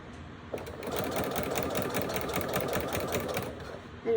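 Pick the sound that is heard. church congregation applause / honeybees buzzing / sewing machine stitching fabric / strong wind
sewing machine stitching fabric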